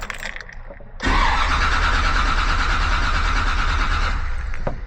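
A 1956 Chevrolet Bel Air with an intermittent no-start fault cranks and fires up after a second of quiet, then runs loud and steady at a fast idle close by, with no talking.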